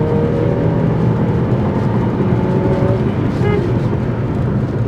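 Lexus RC200t car accelerating hard with some torque steer, a dense, steady engine roar and road noise filling the cabin throughout with no letup.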